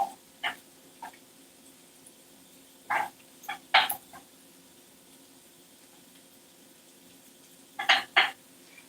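Ground beef, gomitoni pasta and cheese are stirred in a pan, with a utensil scraping and knocking against the metal in scattered clicks and clusters, separated by quiet gaps.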